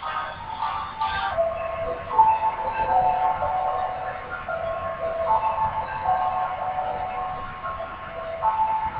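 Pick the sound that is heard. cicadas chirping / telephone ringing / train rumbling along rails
train rumbling along rails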